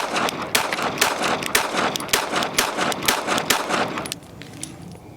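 Rapid string of sharp pistol shots from a Smith & Wesson Bodyguard 2.0 compact pocket pistol at a shooting range, loud and close, firing in quick succession for about four seconds before stopping.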